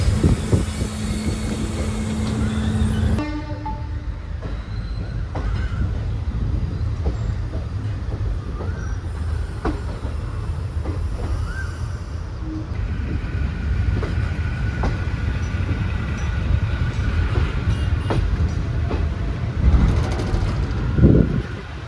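A passenger train rolls along the track after departing Thoothukudi railway station, a steady rumble with rhythmic wheel clicks and carriage rattle, heard from on board and loud throughout with no voices.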